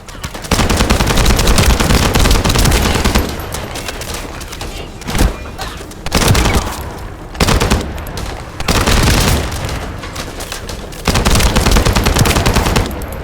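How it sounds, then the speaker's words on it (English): Loud, sustained bursts of automatic gunfire in The First Descendant video game, rapid repeated shots broken by short pauses, dense and close throughout. "That stopped the gunfire."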